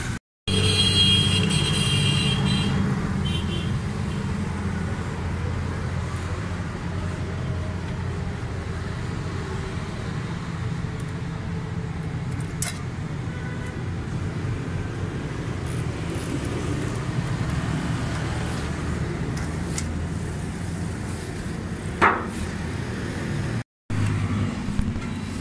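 A Suzuki Cultus three-cylinder engine idles with a faulty Chinese carburetor and misfires. A steady low rumble drones close by for the whole stretch, with a faint uneven roughness and a brief dropout near the end.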